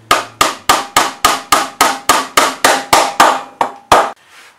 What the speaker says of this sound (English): we are going to drive the nails in at an angle so that they bind, strengthen the central core and prevent it from pulling apart